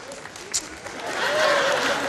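Audience applause in a TV studio at a Musikantenstadl show in Passau, a dense crowd clapping that swells toward the end, with voices mixed in.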